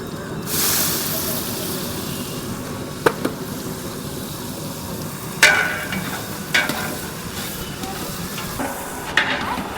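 Finely chopped onion frying in a pan with a steady sizzle, a few sharp knocks of stirring against the pan, and a low voice in the background.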